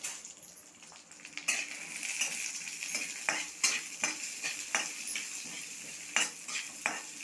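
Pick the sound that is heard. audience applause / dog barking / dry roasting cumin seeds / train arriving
dry roasting cumin seeds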